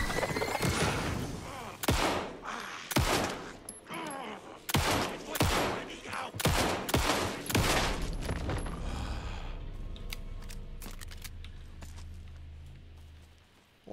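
Gunfire in the video game Alan Wake 2 arrives as a run of sharp, loud shots spaced a second or so apart, then tapers into a low fading rumble. A speaking voice breaks in briefly.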